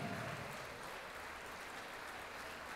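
Faint, steady applause from a studio audience at a televised singing competition final, a dense even wash of clapping with no voices over it.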